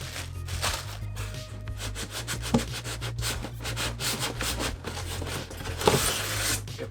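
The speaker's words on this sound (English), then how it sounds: "Get the rest of the styrofoam out." Styrofoam packing being pulled out of a heat press machine box, with close, repeated scraping, rubbing and squeaking as the foam drags against the cardboard.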